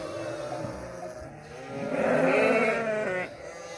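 A young goat bleats loudly up close, a wavering cry rising over a softer earlier call, with faint background noise around it.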